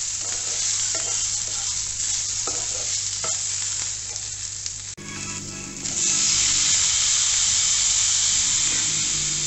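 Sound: onions frying in a pan for chana dal chutney

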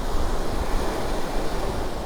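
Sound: ocean waves breaking on a beach

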